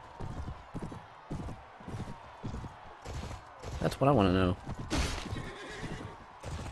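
A horse in Mount & Blade: Warband (Floris Edition) neighs loudly over clip-clopping hoofbeats, with someone talking throughout.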